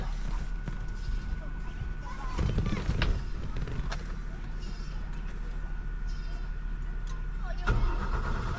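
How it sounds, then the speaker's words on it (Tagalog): A car engine cranks and catches, a brief rumbling start over a steady idle hum, with a voice talking nearby over part of it. "engine start"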